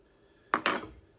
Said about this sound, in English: So I'll just cut that in half with a knife